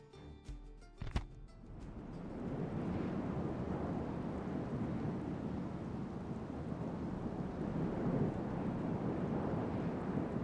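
Steady rain and rumbling storm noise in Medieval II: Total War, rising after a brief low thud into a dense, continuous wash that stays loud and even to the end.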